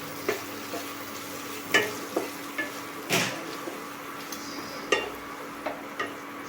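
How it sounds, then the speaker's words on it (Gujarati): Finely chopped tomato being stirred into cooked onions in a pan, with irregular spoon knocks and scrapes against the metal over a light sizzle, close and fairly clear. "હવે એક ટામેટું મેં ઝીણું સમારીને લઈ લીધું છે એ એડ કરી દઈશું મિક્સ કરી લઈશું"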